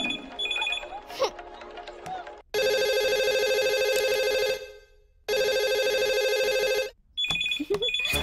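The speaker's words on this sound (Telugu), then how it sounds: "ఈ ఫోన్ కాడే చేస్తున్నట్టున్నాడు. లిఫ్ట్ చేయి." Electronic telephone ring in two long sustained bursts separated by short gaps, loud and close, with brief voices talking before and after the rings.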